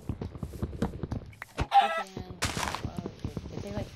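Clucks from a chicken in Minecraft sound briefly amid ongoing game play, mixed with talking voices and short thunks from hits.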